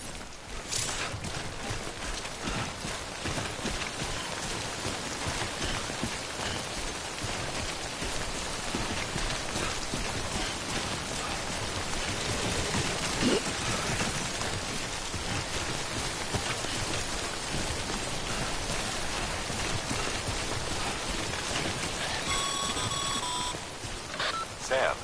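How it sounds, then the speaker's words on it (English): Timefall rain in the video game Death Stranding, a dense steady downpour pattering on surfaces with faint electronic beeps near the end, continuous and fairly close. "Don't stay out in the rain any longer than you have to."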